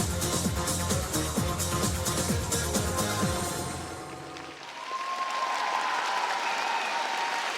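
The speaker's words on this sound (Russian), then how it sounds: "публика довольна, в восторге, аплодирует практически полтанца этим спортсменам" Audience at a Russian Figure Skating Championships ice dance rhythm dance, applauding loudly and steadily in a dense wash of claps over music that fades midway, after which the clapping carries on alone.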